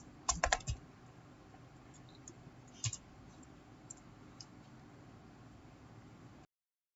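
Someone types a sudo apt install command on a computer keyboard, with a quick burst of close key clicks at the start, scattered taps after, then a short run of soft keystrokes.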